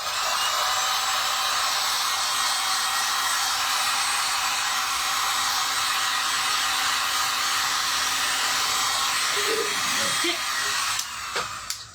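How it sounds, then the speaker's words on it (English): A heat gun blows a loud, steady rushing roar across fresh acrylic paint on a vintage pumpkin painting, running continuously and close by until a brief falter at the very end. "I'll give it a little spray with the Heat gun because it will just speed it up"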